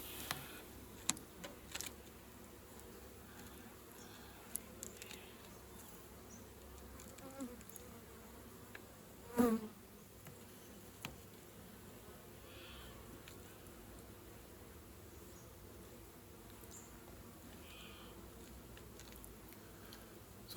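Honeybees from a disturbed hive buzz around comb taken from a swarm trap, a faint, steady drone in the background with scattered soft clicks and taps throughout.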